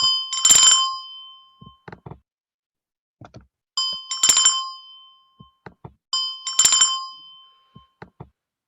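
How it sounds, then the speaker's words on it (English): Coin pickup chime from a PyGame video game, a bright bell-like ding heard three times at steady intervals, each followed by short soft clicks, with silence between and no talking. "when he grabs the coin, we get a sound effect"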